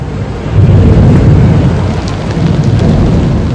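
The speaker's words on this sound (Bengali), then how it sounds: "বৃষ্টি এক নাগাড়ে হয়ে চলেছে" Heavy, unbroken rain pouring during a thunderstorm in Kolkata, a loud dense roar of rainfall with low rumbling underneath, steady across the whole stretch.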